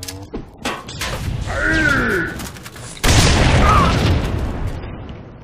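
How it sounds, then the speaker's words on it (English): A grenade goes off in an online first-person shooter match on the Blackout map: a sudden loud blast about halfway through that rumbles on, with softer game noises and a faint whistling sweep before it. "That's grenade."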